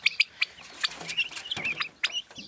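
Turkey poults and chicks peep in high, rapid chirps close by in a small cage, overlapping in a busy, irregular chorus with soft scratching underneath.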